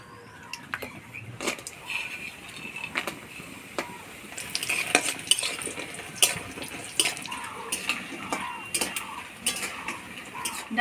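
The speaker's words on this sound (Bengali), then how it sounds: "ডালের বড়িটা লাল করে ভেজে নিলাম" Dried lentil bori frying in hot oil in a heated kadai while being stirred, a steady close sizzle broken by sharp scraping clicks and taps, with no talking.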